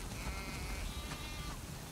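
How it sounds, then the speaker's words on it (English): Sheep bleat in a snowy farm barn scene in the video game The Last of Us Part II, a flock of several animals calling over a soft ambient bed, with no talking. "Wow, that's a lot of sheep."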